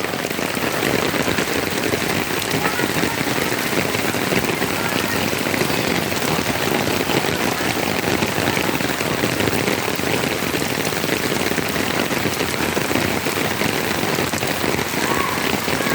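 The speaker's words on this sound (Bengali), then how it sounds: "ঝুম বৃষ্টি যাকে বলে" Heavy rain pours down steadily and densely, a continuous close hiss of drops drumming on surfaces that never lets up.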